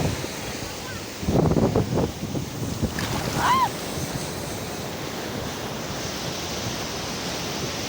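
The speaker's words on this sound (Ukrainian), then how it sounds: "хвилиночку показую вам море" Sea waves roll onto a Vietnamese shore, a steady wash of surf mixed with wind buffeting the microphone, with a brief louder burst of rushing water partway through.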